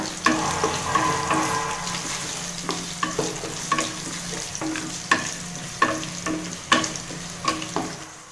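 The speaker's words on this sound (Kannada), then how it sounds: "ನಂತರ ಈರುಳ್ಳಿ ಹಸಿ ಸ್ಮೆಲ್ ಹೋಗಬೇಕು, ಅಲ್ಲಿವರೆಗೆ ಚೆನ್ನಾಗಿ ಫ್ರೈ ಮಾಡ್ಕೊಳ್ಳೋಣ" Two sliced onions fry and sizzle steadily in a pan, with repeated scraping clicks of a spoon stirring them every second or so; close and moderately loud, with no voices.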